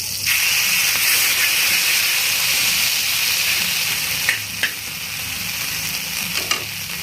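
Butter and pav bhaji sizzling on a hot tawa, a loud steady frying hiss with occasional clicks of stirring, close up and without talk.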